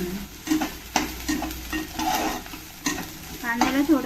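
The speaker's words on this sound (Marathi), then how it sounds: "कांद्याला थोडंसं फ्राय करायला टाइम लागतो." Onions and mixed vegetables are stir-fried in a pan, with a sizzling hiss broken by repeated scraping strokes of a spatula, close and lively, with no talking.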